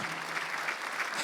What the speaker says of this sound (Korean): 박수하자